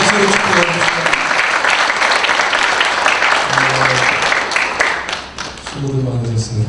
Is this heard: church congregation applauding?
yes